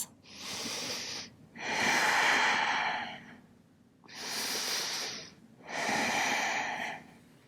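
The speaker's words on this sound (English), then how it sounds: "Good deep breaths." Four long, slow breaths during a seated yoga turtle-pose forward fold, each a broad airy inhale or exhale lasting about a second and a half, close and steady with short pauses between them.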